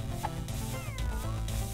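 A cartoon cat meows in the Epic Battle Fantasy 5 video game, a short sliding cry over busy game music and battle effects.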